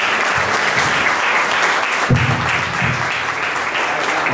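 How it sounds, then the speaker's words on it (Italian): Steady, dense applause fills a hall at a political festival talk on development and infrastructure, a continuous wash of many hands clapping with no gaps and one brief louder thump midway. "Un applauso."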